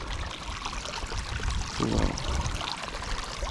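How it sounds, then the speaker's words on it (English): Water gurgling along a forest stream near a monsoon-season waterfall, a steady broadband rush that swells briefly midway, with a short exclamation from a person. "You can listen to the sound of the water gurgling."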